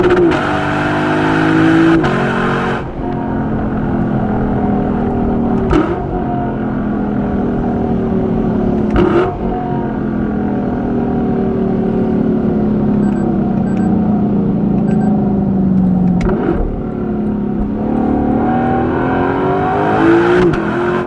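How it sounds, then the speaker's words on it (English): A Lexus LC500 coupe's engine climbs through the gears on the road, rising in pitch and loud, with short breaks at the shifts and several sweeps up toward the rev limiter. "The way it sounds bouncing off the rev limiter is just to die for"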